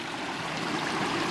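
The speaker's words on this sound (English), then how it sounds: "Nice little stream coming in." A small stream pours into a lake in the Boundary Waters wilderness, a steady broadband rush of flowing water, close and continuous, with no voices.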